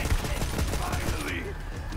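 A pistol fired repeatedly in Borderlands 3, a rapid dense burst of loud close shots that tails off near the end.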